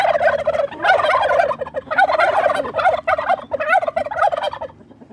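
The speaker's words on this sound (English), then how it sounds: "turkeys." Several turkeys gobble in repeated loud, rattling bursts close by, overlapping calls with short gaps between them.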